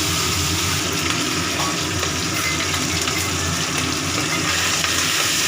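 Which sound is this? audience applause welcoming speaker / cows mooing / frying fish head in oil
frying fish head in oil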